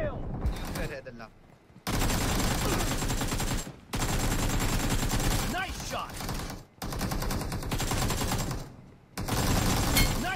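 Close-range automatic gunfire from a first-person shooter game, loud bursts of rapid shots separated by brief silent gaps, with game sounds layered in.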